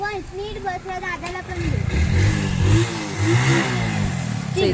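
A motorbike engine revs and pulls away under overlapping voices of people chatting nearby, the engine note rising and holding steady.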